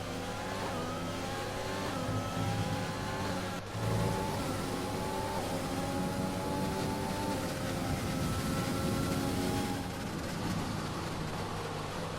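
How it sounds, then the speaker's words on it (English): McLaren Formula 1 car engine in the F1 2020 racing game during a wet-weather British Grand Prix, a loud continuous high-pitched whine with rising and falling gear-shift sweeps, briefly cutting out once before resuming. "the McLaren sounds really nice"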